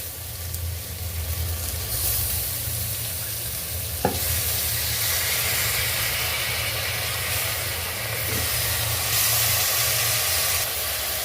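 Rice frying and being stirred in a pan for soya chunk biryani, giving a steady loud sizzle and hiss with soft low rumbling, broken by a single faint clink of a spoon against the pan.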